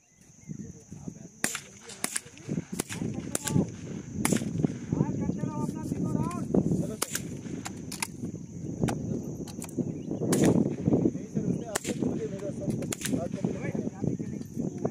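Gunfire at a firing training session in Shillong: a series of sharp, fairly faint cracks at irregular intervals, with people talking throughout.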